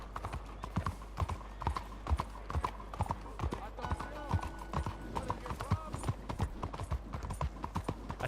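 Steady clip-clop of horse hooves at a walking pace in the Red Dead Redemption 2 video game, with a brief whinny midway and someone talking over the game sound.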